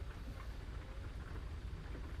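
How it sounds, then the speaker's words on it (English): Rain in a truck-driving video game, a steady low rushing hiss of rainfall with a deep rumbling undertone, constant and moderately quiet with no talk. "The rain's cool."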